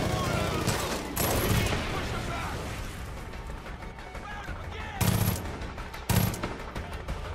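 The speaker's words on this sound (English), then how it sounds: "I really don't like this machine gun." Machine gun fire in the video game Far Cry 5 rattles in sustained bursts, with a couple of sharper, louder volleys standing out near the end; no one speaks.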